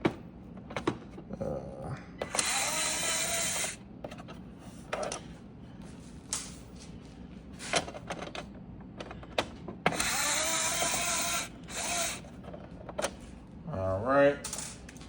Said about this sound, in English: So we're gonna go ahead and remove these two screws